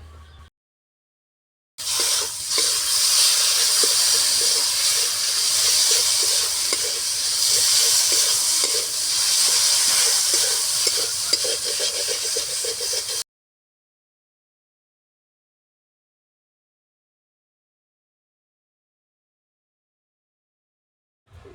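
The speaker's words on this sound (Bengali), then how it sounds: "এবার সিদ্ধ করা মাছগুলো দিয়ে দেব।" Boiled fish dropped into spiced masala in a hot pan, a loud steady sizzle and hiss of frying with stirring that runs for about eleven seconds, then cuts off to silence.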